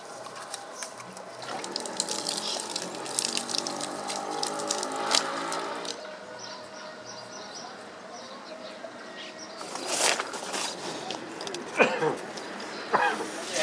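Running water splashes steadily for several seconds while washing dusty laundry outdoors, then fades to quieter trickles with a few louder splashes and clatters near the end; birds faintly in the background.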